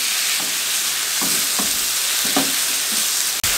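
Marinated chicken sizzles and fries in a pan over a medium flame, with a steady broadband sizzle under several scraping stirs of a spoon and one sharp clack near the end, no talking.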